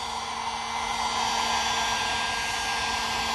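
A heat gun blows a steady, loud, even roar while warming a car fender before rolling it, the continuous airy whoosh holding constant with no talk over it.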